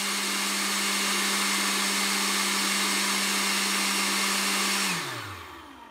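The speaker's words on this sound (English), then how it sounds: "as I turn on my blower, my amps increase. The faster that blower goes, the more amps I draw." A Ryobi One+ 18V cordless leaf blower runs at a loud, steady whooshing whine close by, then winds down as the motor spins to a stop near the end.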